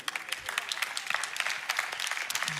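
A church audience at ICF Zürich applauds briefly, a quick, fairly faint patter of many hands clapping throughout with no speech over it.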